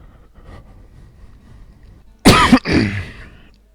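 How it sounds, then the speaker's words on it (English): One sharp, close cough breaks a near-silent stretch, followed by a rough, throaty rasp. "Oh, this cough's a killer."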